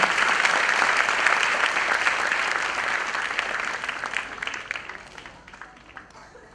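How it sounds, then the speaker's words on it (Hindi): Sustained applause from a large audience at a music launch event, loud and dense throughout, thinning slightly toward the end. "हम आपको गुजारिश करते हैं जरा जोरदार तालियां आप सभी की ओर से हो जाएं"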